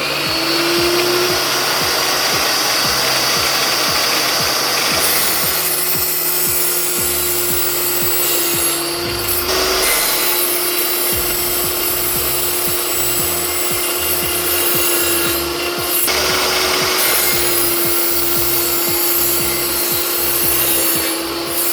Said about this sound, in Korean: 제 연마해온 12인치 날 가지고 다시 이렇게 절단을 해봤습니다